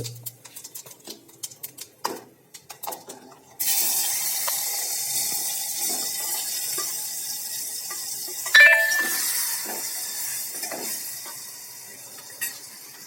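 Whole cumin and asafoetida hit hot oil with a sudden loud sizzle that holds steady and slowly fades, following some scattered clinks of utensils against a pan, with a sharp clatter partway through.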